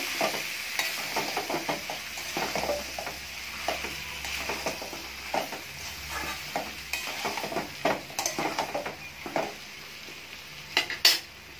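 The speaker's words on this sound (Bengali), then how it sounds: "এবার আলু আর পটলটা আমি ভালো করে কষে নেব" Pointed gourd and potato pieces stir-fried in spiced oil in a pan, a steady soft sizzle under repeated scraping stirs with occasional clinks of the spatula against the pot, close and moderately loud, no talking.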